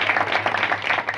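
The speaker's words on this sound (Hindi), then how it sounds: "जोरदार तालियां यीशु के जलाल के लिए।" Loud, sustained applause from a congregation at a prayer meeting, dense clapping filling the whole moment with a steady, even roar and no voices over it.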